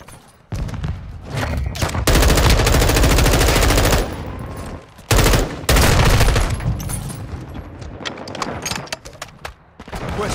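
Gunfire on the Shoot House map of a military shooter game: loud sustained automatic bursts with sharp single shots, broken by brief pauses, then another long volley before scattered shots trail off.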